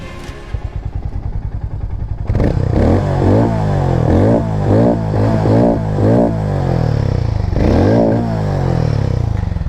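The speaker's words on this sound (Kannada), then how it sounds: "ಮ್ಯಾವ್ರಿಕ್ 440 ಒಂದು ಸಲ ಎಕ್ಸಾಸ್ಟ್ ನೋಟ್ ಕೇಳ್ಬಿಡೋಣ ಫಸ್ಟು." A Hero Mavrick 440 motorcycle idles with a low, even thump, then the throttle is blipped repeatedly, making sharp throaty exhaust revs that rise and fall in quick bursts, loud and close, ending in one last rev.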